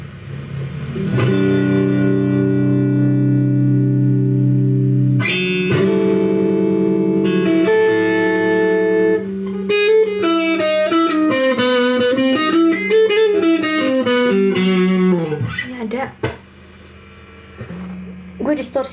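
A voice run through a heavy distortion and effects filter during a TikTok live stream, turning sustained vocal tones and warbling runs into loud, buzzy, pitch-shifted synthetic sounds for nearly the whole stretch before cutting out.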